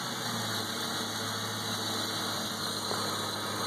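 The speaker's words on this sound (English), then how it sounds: "The engine's running." A 1996 Ford Mustang GT idles steadily and close by, a continuous even engine hum with no revving or speech.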